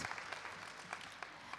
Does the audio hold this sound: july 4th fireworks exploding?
no